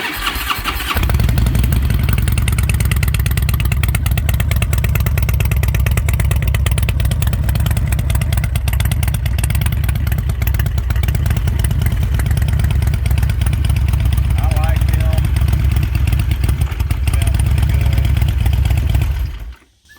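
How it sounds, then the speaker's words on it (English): A Harley-Davidson motorcycle fitted with Reinhardt true dual exhausts runs for about twenty seconds, a deep, loud, throbbing rumble with an uneven lopping idle, close and steady before cutting off at the end. "now these are some Reinhardt dual exhausts. These are true duals"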